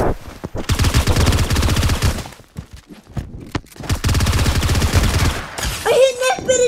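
Hunting rifle and other weapons firing in the Fortnite video game, sounding as long dense bursts of rapid loud shots broken by short pauses, close and forceful, with a brief electronic effect at the end.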